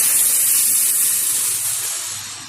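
Boiled soybean and potato tipped into hot frying spice paste hiss loudly in a steady, close sizzle that fades slightly toward the end.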